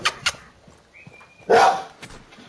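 A single dog gives a sharp, close bark partway through, with a couple of fainter yips and clicks around it in an otherwise quiet room.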